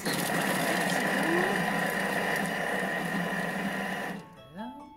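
A Thermomix grates zucchini at speed 5 with a loud, steady motor whir and an even buzzing drone for about four seconds. It then cuts off abruptly, leaving a quieter room.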